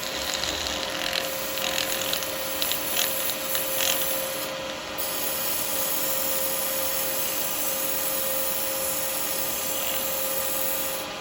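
180-grit abrasive rubs against a wooden hand sander being turned on a lathe, with no dust extractor running, making a steady, even hiss over a constant machine hum that continues unbroken for several seconds.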